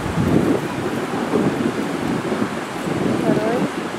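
Strong wind buffeting a canal lock on the Trent-Severn Waterway, a continuous broadband roar with gusty swells, loud and close throughout with no clear pauses.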